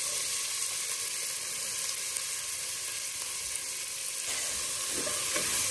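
Chopped onion hits hot oil already seasoned with cloves, cinnamon, cardamom and black pepper, giving a steady, dense sizzle and hiss close by, with brief stirring near the end and no talk.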